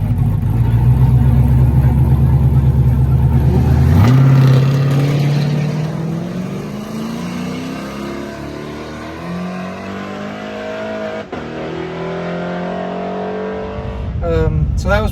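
An LT4-swapped C10 truck launches on a no-prep drag strip with small tires, its engine note climbing steadily in pitch through repeated gear pulls, loud and close for the whole run.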